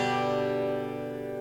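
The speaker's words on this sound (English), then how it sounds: "so when I strum a chord like this" A guitar chord strummed downward from bass to treble strings rings out with a bright attack and then a sustained, slowly fading resonance, heard alone and fairly quiet.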